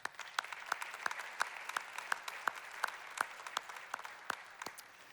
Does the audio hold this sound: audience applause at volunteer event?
yes